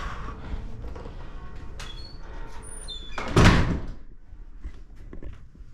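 A heavy door in an old original building swings with a squeak and lands a solid thunk midway, with a room's quiet background before and after.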